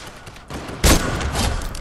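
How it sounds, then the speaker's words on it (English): A sniper rifle fires in the video game Fortnite, one sharp loud shot cracking out over a steady background of game ambience, with a faint trailing echo. "Let's see if we can finish the snipe."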